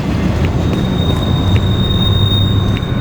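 Train rolling on rails in the video game Doom 3, a steady loud rumble with a thin high whine running through it and no talk.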